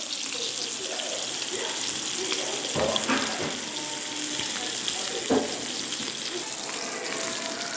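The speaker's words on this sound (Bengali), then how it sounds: "দেখো মাছটাকে আমি আগে ভেজে নিচ্ছি কড়াইতে, হলুদ নুন মাখিয়ে রেখেছিলাম" Fish coated in turmeric and salt fries in a wok with a constant loud, crackling sizzle, punctuated by a few sharper spatters and brief clanks from handling.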